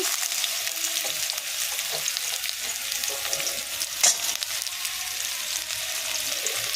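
Pumpkin, drumstick and beans frying in hot oil, a loud continuous crackling sizzle close by with one brief stirring knock near the end.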